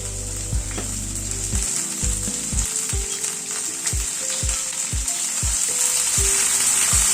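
Potatoes and green beans fry in a pan with a steady, close sizzle, broken by a string of dull knocks from a spatula or spoon tapping the pan. No one speaks.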